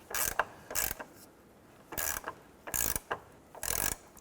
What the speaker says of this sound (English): Let's go ahead and tighten down our trailing arm.